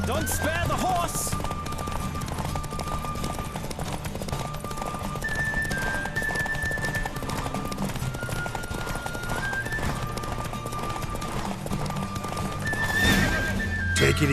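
Horse galloping with steady hoof clip-clops and a whinny, from The Witcher 3 video game, racing at speed over a dense, continuous game soundscape with music-like tones and voices.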